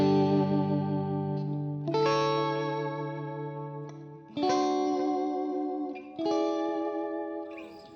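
Electric guitar with a single-coil pickup, played through a Marshall amp model on a Quad Cortex: a long ringing chord, then three more strummed chords, each left to sustain and fade, loud and alone.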